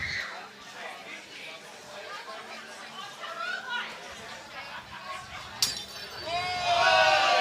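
At a Metro Premier Division cricket match between Richmond and MCC, glass shatters with a sudden sharp crash and tinkling fragments near the end, after background crowd chatter and murmuring.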